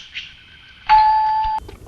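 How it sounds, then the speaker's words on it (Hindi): A two-tone doorbell chime rings once, a bright electronic ding-dong sustained for under a second, then cuts off. "किसने बजाई हमारी घंटी सर?"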